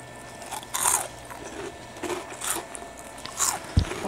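Wasabi-flavored chips crunched and chewed up close, with a few sharp bites and crackly chewing bursts spread over a few seconds, no talking.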